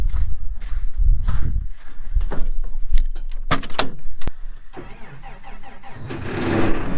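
Keys jangle before a tractor engine cranks and catches, then settles into a loud, steady running rumble close by.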